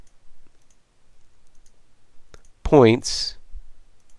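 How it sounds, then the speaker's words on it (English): A computer mouse clicks while the pen tool places points in Adobe Illustrator CS5: two quick, sharp clicks in a quiet room, then a voice briefly speaks. "I can use the pen tool, and I'm going to just click and drag and create"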